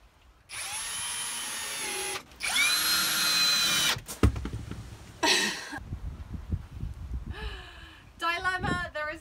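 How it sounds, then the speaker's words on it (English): A power drill whines in several bursts, some long and steady, some short, during a camper van conversion. Bumps, handling clatter and brief coughing-like sounds come between the bursts. "I'm going to be safer using the power tools this week."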